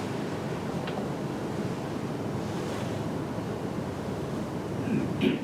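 Steady wind blowing across the microphone outdoors at a birding site, a constant broadband rushing that holds level throughout, rising slightly near the end.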